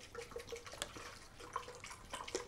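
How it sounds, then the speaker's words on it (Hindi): Water poured into a glass as the first step of a lemon-juice drink, giving a soft, uneven trickle with small dripping splashes, close and fairly faint, with no voices. "ये एक गिलास हमने इसमें पानी डाला"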